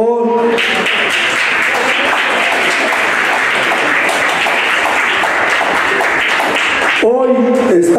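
A crowd at a bull event in Chicago applauds, a loud, steady wash of clapping sustained for about seven seconds before a voice speaks over the tail.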